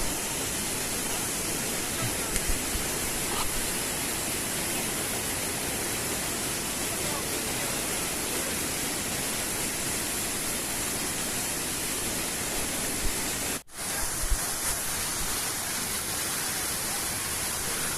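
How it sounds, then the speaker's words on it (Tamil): Steady, dense roar of a waterfall at Chithathipuram dam, Kuruvithurai, Madurai, broad and constant throughout, with a brief dropout near the end. "மதுரையில் இப்படி ஒரு ஃபால்ஸ் இருக்குது"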